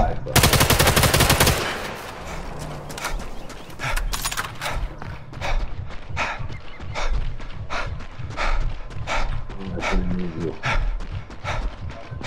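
Gunfire in Sniper Elite 5 multiplayer deathmatch, opening with a rapid loud automatic burst, then a long run of sharp single shots and short bursts at an uneven rhythm, with players talking underneath.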